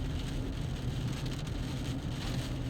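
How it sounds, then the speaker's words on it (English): Heavy rain from Hurricane Matthew near Georgetown, South Carolina pours as a steady, dense hiss, with a low rumble underneath and no voices. "Heavy rain right now, obviously,"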